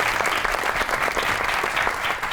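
A studio audience at the Tanz o Maza comedy show claps loudly and continuously for an arriving guest, a dense, even wash of applause with no voices on top.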